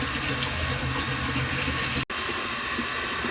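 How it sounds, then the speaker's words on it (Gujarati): An electric motor pump drives water through a long hose to fill containers, giving a constant, loud gushing rush broken by one very brief dropout midway. "મોટર ચાલુ કરી નળી લાંબી કરી લે, પાણી ભરી લઉં."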